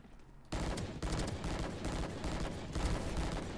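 Dense, loud gunfire from a shooter game, rapid bursts of shots rattling almost continuously after a brief quiet start.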